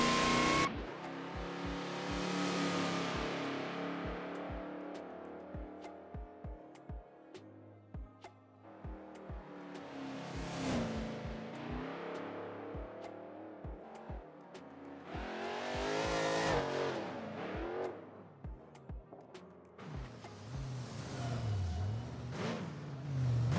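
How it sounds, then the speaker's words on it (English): A 2023 Dodge Challenger Demon 170 in BeamNG Drive revs repeatedly in long rising and falling surges, its supercharged engine loud and close with a whining edge, occasional tire noise and sharp clicks between pulls, and no voices over it. "You hear that supercharger whine is very, very noticeable in this car."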